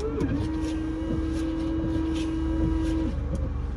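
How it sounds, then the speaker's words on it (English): A car's windshield washer pump whines steadily for about three seconds while the car drives through Batesville, Mississippi, with constant road rumble underneath and no talking. "I'm gonna use a little bit of windshield washer fluid"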